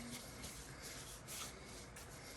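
A cloth rubbing along the metal of a Diana air rifle, quiet rhythmic wiping strokes repeating about every half second, close up with no talking.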